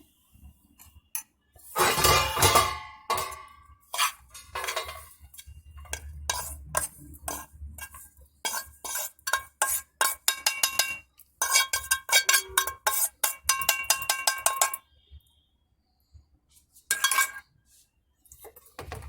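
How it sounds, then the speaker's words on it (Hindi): A metal spoon scraping and clinking roasted ladoo mixture from a pan into another vessel, with repeated sharp scrapes and taps in irregular bursts separated by brief pauses, close by. "मैं इसको ट्रांसफ़र कर देती हूँ किसी दूसरे बर्तन में"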